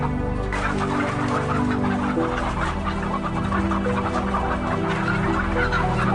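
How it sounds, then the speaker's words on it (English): Many hens crammed in battery cages inside a laying warehouse cluck continuously, a dense, loud, overlapping chorus with steady mechanical background hum. "For hens, they live in a laying warehouse, crammed inside so-called battery cages."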